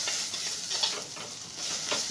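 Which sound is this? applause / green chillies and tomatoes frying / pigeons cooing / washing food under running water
green chillies and tomatoes frying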